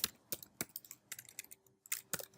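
Computer keyboard typing on a Mac, a quick run of crisp, close key clicks in irregular bursts with brief pauses between them.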